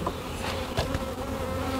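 Honey bees swarming around an open hive on a sunny day during queen cell work, a dense close buzzing drone that holds steady throughout with no talk.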